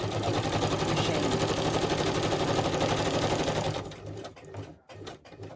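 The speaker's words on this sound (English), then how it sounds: "I'm going to straight stitch up here" A sewing machine runs a straight stitch while working on a vintage-handkerchief-inspired project, giving a steady, close, rapid mechanical whirr and clatter that stops near the end, followed by a few soft handling clicks.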